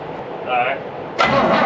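Engine of a 1972 Chevy C10 pickup truck with a carburetor cranking and catching at the end of a brief burst, loud and close, with a voice speaking over it.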